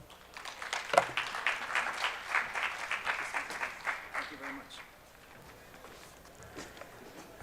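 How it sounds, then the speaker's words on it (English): Audience at a small business summit applauding a keynote speaker, clapping rising early then fading out after a few seconds, moderately distant, with a voice speaking over it. "Please give Mark a round of applause."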